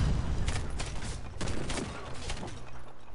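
An M99AS submachine gun firing rapidly in the shooter game Warface. A dense burst of shots follows in quick succession, sharp and steady at a high rate of fire.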